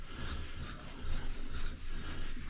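Metal tub plumbing fixture parts are unscrewed by hand, giving a close, quiet grinding and ratcheting rasp of threads that comes in short uneven turns, with no talk.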